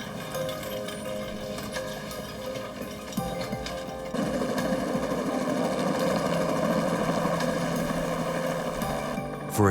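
A helicopter airlifting a critically ill child to a children's hospital in London, Ontario, gives a steady, continuous rotor and engine drone that grows somewhat louder partway through and carries on with no talk.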